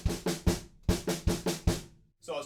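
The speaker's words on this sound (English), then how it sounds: "we've got that little snare roll and then there's a stop" A drum kit snare roll from a pre-chorus, played as a run of loud, evenly spaced hits that break off into a brief silence before a final hit resumes.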